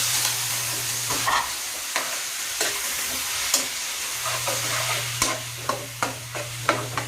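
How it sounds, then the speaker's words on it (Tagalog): Pork fries with onion and garlic for dinuguan, a loud close sizzle punctuated by repeated rhythmic scrapes and knocks of a spoon stirring the pan, with a low steady hum underneath. "Haluin natin at hintayin din natin na maging brown yung ating karne."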